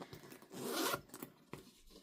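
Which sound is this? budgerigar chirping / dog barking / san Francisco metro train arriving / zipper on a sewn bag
zipper on a sewn bag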